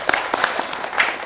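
Scattered hand claps from a small group, brief and moderately loud, a short burst of applause with uneven rhythm.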